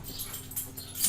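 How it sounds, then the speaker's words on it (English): A dog makes agitated whimpering, whining noises nearby in a quiet indoor room, brief and unsettled rather than a run of loud barks. "my dog is going wild over there"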